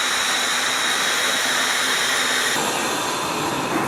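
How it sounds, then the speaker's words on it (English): A strong vacuum pump draws air from a bronze-casting mold filled with wax, giving a loud, steady broadband hiss that stays unbroken for the whole stretch and turns slightly brighter partway through. "It looks like he's pulling a vacuum on a mold with wax in it"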